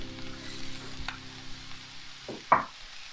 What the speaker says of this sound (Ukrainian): Смажимо приблизно пів хвилини.